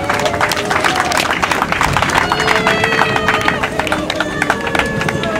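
Sustained audience applause at a memorial tribute, dense rapid clapping from a crowd filling the space steadily, with a murmur of voices and speech woven through it.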